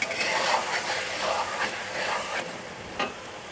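Beef karahi gosht sautéing in a pan, a steady frying sizzle and hiss with occasional louder spatters and crackles, close and moderately loud.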